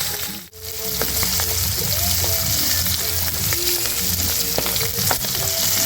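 Tamban fish fry in hot oil with a steady, loud sizzle and crackle that keeps going throughout, broken by a few scraping stirs and light clinks of a utensil, with no one speaking.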